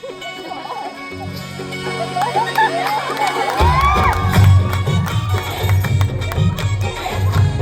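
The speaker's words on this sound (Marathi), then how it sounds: "एकदा जोरदार टाळ्या होऊन जाऊ" Crowd at a school-friends Holi reunion gathering cheering and shouting, with children's voices rising over a loud, steady roar after an initial burst of noise, building and staying dense throughout.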